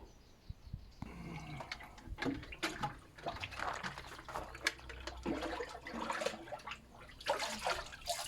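Water splashes and pours out in irregular gushes and trickles as a grey water recycling tank is emptied, close by, with scattered knocks and clatter.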